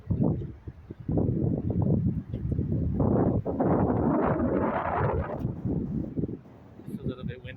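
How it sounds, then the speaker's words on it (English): Strong wind blows outdoors near trees, buffeting the microphone with a loud, continuous low rumble and gusty rushing that rises and falls over several seconds. "It's pretty windy out here."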